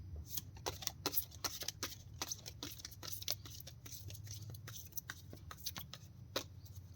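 Tarot cards shuffled by hand in quick, uneven bursts of crisp flicks and riffles, fairly close and quiet over a low background hum.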